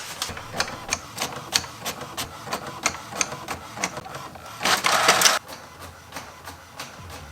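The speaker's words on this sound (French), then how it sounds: "C'est bon, on peut imprimer les 42 autres pages." Home printer feeding and printing sewing pattern pages, with a steady run of rhythmic mechanical clicks and a louder whirring burst near the end, close and clear with no talking.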